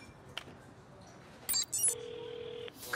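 An animated phone call rings out with a bright electronic trill, preceded by short digital blips and taps, the steady ring tone lasting under a second before cutting off.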